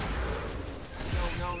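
Rapid bursts of gunfire from the video game Borderlands 2 rumble in a dense, continuous barrage for a brief moment, with a voice faintly mixed underneath.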